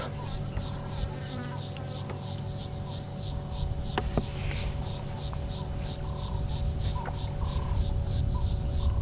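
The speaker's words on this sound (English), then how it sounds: "Those cicadas, that sort of chirping, scratching sound almost." Cicadas buzz in a steady, fast, rhythmic scratching pulse on a sunrise safari drive, constant and fairly close, with a low engine-like hum and occasional faint calls underneath.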